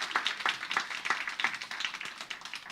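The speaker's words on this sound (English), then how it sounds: "let's give our friends another round of applause" Applause from an audience at a community event, a steady, fairly distant clatter of many hands clapping together without voices.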